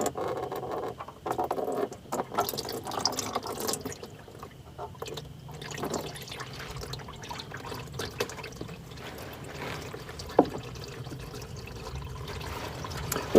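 Hot Amsoil 5w-20 engine oil drains into a bucket, a faint, continuous trickling patter with small irregular drips and splashes, quiet and close.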